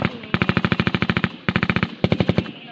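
Automatic gunfire during an armed encounter between NPA rebels and AFP soldiers in Bilar, Bohol: three loud, close bursts of rapid, evenly spaced shots separated by brief pauses.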